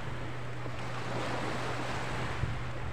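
Ocean surf at a sunny beach in the morning, a steady close wash of waves with wind buffeting the microphone and a low hum underneath, no voices.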